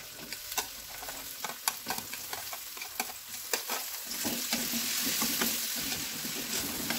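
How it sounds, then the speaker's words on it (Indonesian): Sizzling stir-fry of bok choy with garlic and onions in a pan, steady frying hiss with repeated scraping stirs and clinks, close and alone without speech. "kita aduk-aduk sampai harum"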